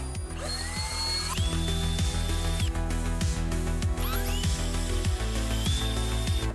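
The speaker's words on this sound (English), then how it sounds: "drill a couple pilot holes." A power drill bores pilot holes into the back of a homemade gong mod for a Stern King Kong Pro pinball machine; the motor whines up in pitch in two close bursts over a steady mechanical rumble.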